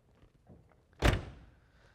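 A single solid door thunk from a 1974 Plymouth Duster, close and fairly loud, after some faint shuffling, with a short decay afterward.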